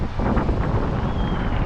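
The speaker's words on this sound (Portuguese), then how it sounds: "ventos fortes, como os que está acontecendo agora" Strong wind sweeps a beach at Caraguatatuba on Brazil's north coast, a constant broadband roar with gusty buffeting against the microphone and no voices.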